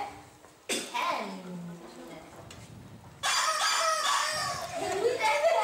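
A voice imitates a hen for a children's story, with a short clucking, squawky vocal call followed by a burst of lively children's voices and noise.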